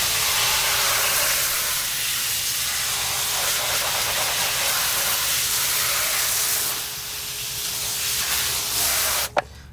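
A water spray rinses a rubber car floor mat, making a loud, steady, close hiss that runs almost without break before cutting off, ending with a sharp clack.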